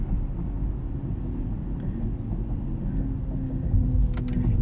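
A 2022 BMW iX xDrive50 electric SUV slows under regenerative braking in traffic, heard from inside the cabin as a steady, loud low road rumble with no talk.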